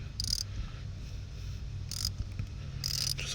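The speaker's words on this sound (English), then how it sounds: "That's when I'm going to go ahead and start doing it with the socket wrench." A socket wrench, fitted with a 10mm socket, ratchets a spark plug in a 2012 Kia Soul, giving three short, crisp bursts of clicking against a low, steady background hum.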